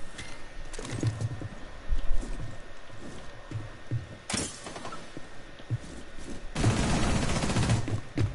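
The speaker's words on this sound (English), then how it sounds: "I can shoot him in the back" Bursts of gunfire in the tactical shooter Rainbow Six: Siege-style rapid shots around the 2-second mark, a sharp loud crack near 4.3 seconds, and a dense sustained volley after 6.5 seconds, over faint background game noise.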